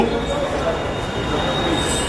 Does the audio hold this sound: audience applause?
no